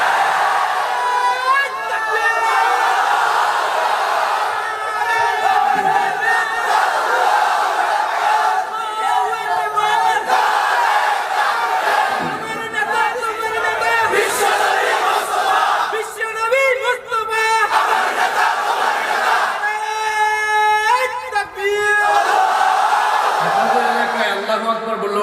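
A large crowd at an Islamic sermon gathering chants the Allahu Akbar slogan in loud, sustained waves of voices, rising and falling in repeated phrases that fill the whole stretch.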